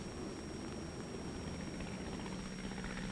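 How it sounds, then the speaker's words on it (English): An artillery fire control plane flies overhead during the Korean War, giving a steady, continuous droning engine roar with a low rumbling hum that holds at an even level throughout, with no voices. "Today, these fire control planes are an important part of every artillery outfit."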